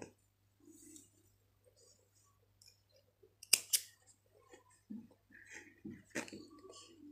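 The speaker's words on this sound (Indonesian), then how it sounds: "yang digunting kemudian kita rapihkan digunting lagi ininya ya" Scissors snip crochet yarn while a tassel is trimmed, giving two or three sharp close cuts near the middle and a few softer snips later, with quiet handling sounds between and no talk.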